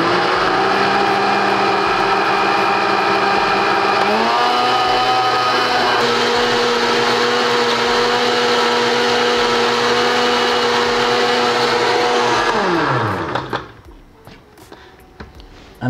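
Blender crushing ice cubes and mixing a piña colada, a loud steady motor whine that shifts pitch as the speed changes, then spins down and stops near the end.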